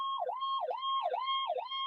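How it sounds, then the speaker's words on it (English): An ambulance siren wails in a steady rising-and-falling cycle, four sweeps in under two seconds, loud and clear with no talk over it. "there's an ambulance."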